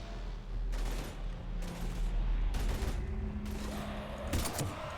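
Sustained bursts of automatic gunfire in a Mass Effect 3 firefight against Husks, steady and fairly loud through the whole stretch, with no speech over it.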